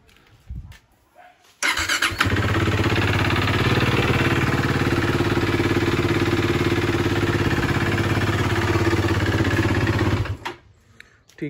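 A KTM motorcycle engine fires up with a sharp start, then settles into a loud, steady idle for about eight seconds close by before cutting off, with no talking over it.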